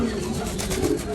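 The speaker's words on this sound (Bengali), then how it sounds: "এই যে এই ডিজেল কবুতরটা আজকে একদিন পর আসলো" A racing pigeon, back at its home loft after a day away, gives a short, close, soft coo with a low throaty tone.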